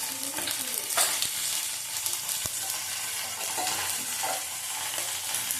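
Black cumin seeds sizzling in hot oil in a large wok-style kadai while cooking Bengali katla fish curry, a loud continuous crackling fry with occasional stirring scrapes and a couple of sharp clinks.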